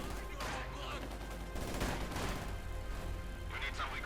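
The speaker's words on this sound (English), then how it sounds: "we're taking heavy fire there for the Panzers out in the open" Rattling bursts of small-arms and machine-gun fire echo through a Company of Heroes 2 battle, with dense overlapping shots and booms layered under steady commentary.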